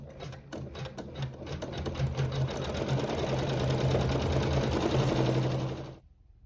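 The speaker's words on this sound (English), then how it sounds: "we'll sew some quilting and a satin stitch over fabric 7" An embroidery machine stitches quilting lines and a satin stitch on fabric, a steady rapid mechanical chatter of needle strokes running continuously for about six seconds before stopping abruptly.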